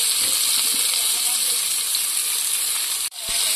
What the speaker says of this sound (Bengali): এই যে এবার গরম হয়ে গেছে, পেঁয়াজটা ফেলে দেবো আমরা এটা